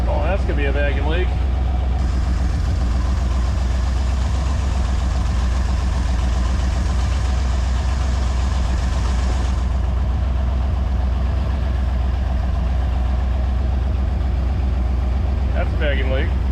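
A 1969 Ford Galaxie XL Convertible's engine idles rough with a vacuum leak, a loud, continuous low rumble that persists throughout, with voices talking over it.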